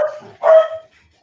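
A dog barks twice from nearby on a porch, a brief yip followed by a louder, fuller bark, and then the sound drops to near silence.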